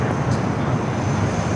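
A United Boeing Dreamliner arriving at LAX produces a continuous jet engine rumble, moderately loud and steady through the brief moment, with no voices.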